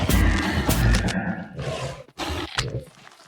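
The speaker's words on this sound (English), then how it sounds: "So I used samples from a hippo, as well as a sea lion, raven, lion, and a pig, and added bubbly underwater sounds." A designed creature vocalization built from hippo, sea lion, raven, lion and pig samples for an amphibious hippo-like monster, heard as a loud, growling roar with several harsh bursts and short pauses, standing alone without speech.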